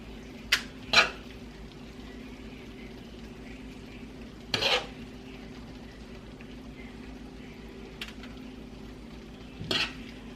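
A spoon scrapes and clinks against a dish a few times while quinoa, spinach and mushroom stuffing is packed into roasted butternut squash, with soft, sparse taps over a quiet kitchen background.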